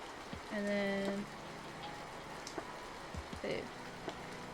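Rain patters softly and continuously on a surface, a faint even hiss with scattered droplet ticks, interrupted briefly by a tonal hum and small background sounds.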